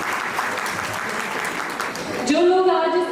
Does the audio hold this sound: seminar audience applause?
yes